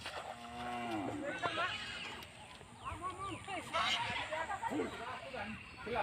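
A cow just bathed for Goru Bihu lets out a few loud, drawn-out moos close by, with people chattering in the background and a possible hoof clop.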